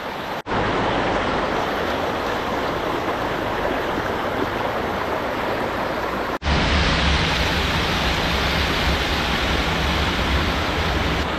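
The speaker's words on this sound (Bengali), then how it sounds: "চারিদিকে জঙ্গল আর এই ঝর্ণাটা এই দুই সাইড থেকে বয়ে যাচ্ছে" A forest waterfall stream flows from two sides as a steady, loud, close rush of water. It breaks off abruptly twice and resumes at the same level.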